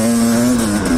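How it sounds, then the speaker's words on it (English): Motorcycle engine pulling hard up a snowy hill in deep snow, a brief steady mid-pitched drone with a strong tonal hum, close and loud. "I can't believe how well this bike is climbing."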